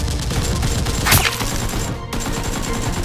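Toy Nerf blasters firing during a Nerf war game, a dense, continuous clatter of shots and mechanical action close by, with one sharper burst near the middle and a brief drop before the noisy firing resumes.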